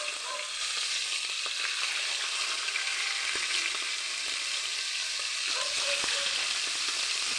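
Pork liver fries in hot oil in a pan, a continuous loud sizzle with scattered pops and crackles, close and steady throughout.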